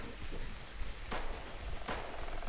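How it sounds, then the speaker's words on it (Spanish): Gunfire in the survival shooter DeadSide, two distant shots ringing out over steady ambient noise, loud and sharp against a constant background hiss. "Tiros."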